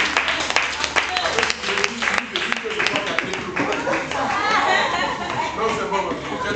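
A church congregation applauds and cheers in acclaim, a dense burst of clapping with crowd chatter, while a voice speaks over it.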